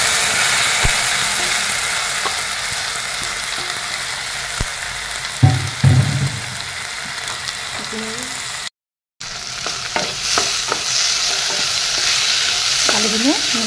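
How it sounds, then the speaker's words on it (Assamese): Dal frying in a pan, steady loud sizzling throughout while a spoon stirs and scrapes, with a few clattering knocks and a brief silent gap partway through. "অলপ ভাজি লওঁ এইখিনি মই লৰাই দি দিলো"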